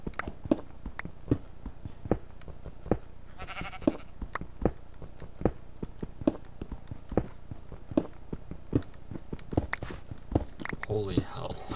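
Minecraft sheep bleat a few times amid a steady pattern of footstep-like thuds and clicks, with a voice talking faintly underneath.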